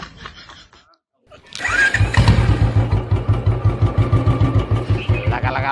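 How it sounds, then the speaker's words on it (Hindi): A Bullet motorcycle engine cranks and fires up after a brief pause, then settles into a loud, steady, rhythmic thumping idle close by. "बाइक तो स्टार्ट हो रही थी,"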